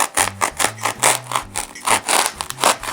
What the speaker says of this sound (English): And then I'm going to cut the noodle.